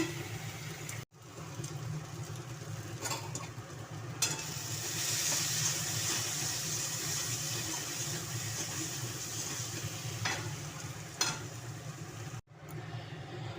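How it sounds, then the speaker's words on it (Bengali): Onions fry in a pan, producing a soft, steady sizzling hiss that runs throughout with a few faint clinks and short breaks. "আর এখানে পেঁয়াজ ভাজা হচ্ছে"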